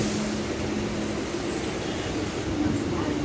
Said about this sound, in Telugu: టెన్ సెకండ్స్ తర్వాత సీతాఫల్ మండి నుంచి ట్రైన్ డిపార్ట్ అయిపోయింది